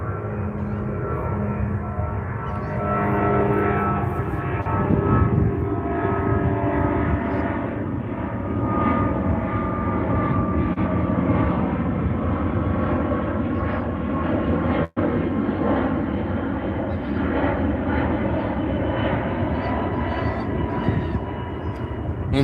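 An airplane passes overhead outdoors, a loud, steady engine drone that swells and lingers for over twenty seconds with a broad rushing roar, heard alone without talk.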